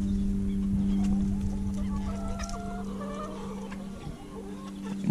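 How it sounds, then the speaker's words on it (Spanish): Japanese bantam rooster, calling in a few short clucks and honk-like notes over a steady low hum, fairly close and moderately loud, with no talking. "este es el otro gallo que tengo. Es el japonés."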